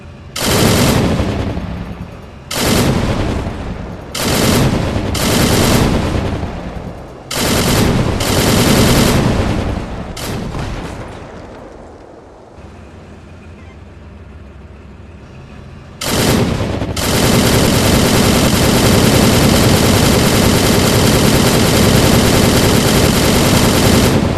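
A Shilka anti-aircraft gun firing in Minecraft with Flans Mod: several loud, long bursts of rapid automatic fire broken by short gaps, then a quieter stretch and a final sustained burst.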